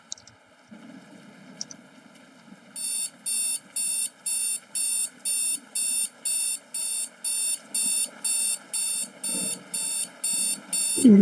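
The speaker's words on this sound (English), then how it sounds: "Someone turn off the alarm." An alarm clock in a video game rings in a rapid, steady series of electronic beeps. The beeps come in regular bursts after a quiet start with a faint background hum.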